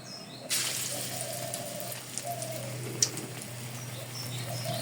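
Small raw green banana fritters drop into hot oil and set off a sudden, steady sizzling hiss that continues with light crackles and pops.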